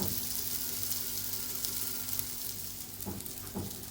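Brinjal slices cook on a tawa with a soft, steady, fairly faint sizzle. Near the end come a couple of brief scraping knocks, like a spatula moving the slices.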